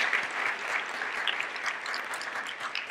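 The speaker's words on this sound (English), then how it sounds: "Everybody, big round of applause." Guests at a host region welcome lunch applaud the conference committee, a moderate, scattered-to-steady clapping of a modest crowd, fairly soft and without talk over it.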